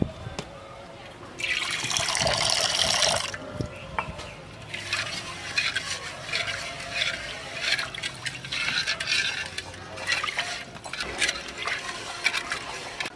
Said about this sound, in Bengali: আর এটা ভালো করে ধুয়ে নেব